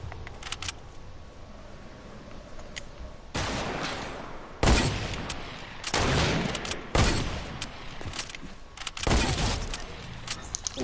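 Gunfire in a PS4 shooter plays as sharp, loud bursts and rapid volleys separated by short pauses, with no talk over it.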